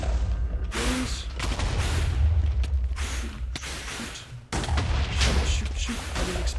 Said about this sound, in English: wait for the explosion.